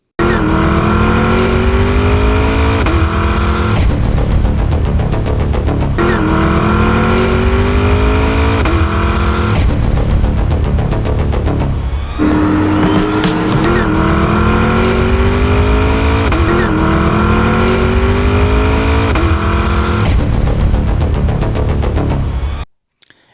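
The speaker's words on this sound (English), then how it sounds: "when it comes to the sound of this car, listen to this Grand Sport" A 2027 Chevrolet Corvette C8 Grand Sport engine revs loud and close in repeated rising pulls, with brief gaps between bursts and a sudden cutoff at the end.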